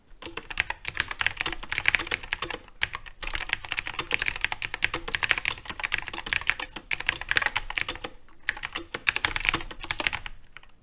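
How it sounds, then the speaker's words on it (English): An old computer keyboard with very cheap clicky mechanical switches and mismatched keycaps being typed on: fast, dense, close clacking keystrokes in continuous bursts with short pauses, no voices. "here is how my old keyboard with super cheap clicky switches sounds like"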